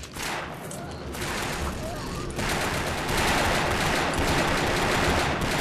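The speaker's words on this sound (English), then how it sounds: "I was shooting you in the back of the head." Rapid automatic gunfire rattles continuously in the Brick Force video game, dense and loud throughout, with players talking over it.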